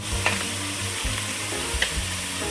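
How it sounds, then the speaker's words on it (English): Vegetables and garlic sauté in a pan for marinara sauce, giving a steady close sizzle and frying crackle with a few louder spits, and no voices. "There is all of my vegetables. That's sweating together."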